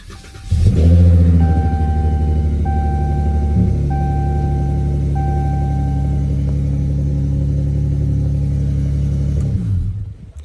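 A 2019 Dodge Charger GT with a V6 is revved repeatedly in stepped bursts at close range, the engine holding each higher pitch briefly before dropping back to a deep idle rumble and settling.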